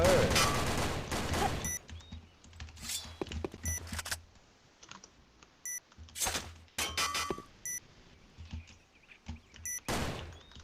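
Gunfire rings out in the online shooter Sudden Attack, with bursts of rapid shots and sharp single cracks scattered among game beeps and quieter gaps, fairly faint overall.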